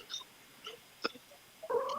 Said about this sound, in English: Is that your cat in the background?